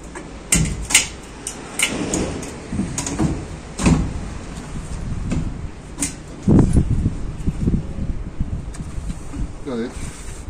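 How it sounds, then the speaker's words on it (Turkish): A caravan door is fitted into its frame during a home build, with repeated knocks, bumps and scraping handling noises over rustling and wind, alongside some talk. "Kapıyı bir yerine koyalım bakalım."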